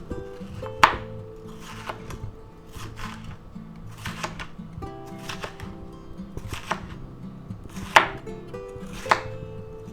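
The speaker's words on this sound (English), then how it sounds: "Now we'll take our nice red bell pepper here and we'll cut it in half." Knife chopping a halved red bell pepper on a cutting board, steady repeated near taps with a few sharper louder chops, over a low background hum, no talking.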